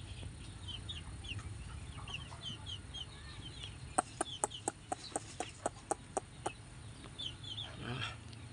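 A flock of thirteen young F1 jungle fowl clucks and peeps softly in a pen fenced with B40 wire mesh, with a run of about ten sharp rhythmic clicks or taps partway through.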